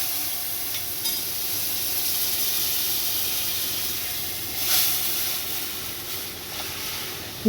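Steady sizzling hiss of hot oil tempered with dried red chilli and black mustard seeds as lentils go in, a continuous bright spitting fry with one brief louder flare near the end.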